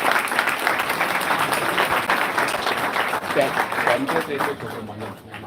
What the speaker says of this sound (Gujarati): એમના ઇન્સ્ટ્રક્ટર માટે પણ તાળીઓના ગડગડાટ